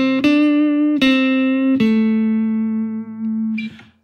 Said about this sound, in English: Listen to this idea with a pick.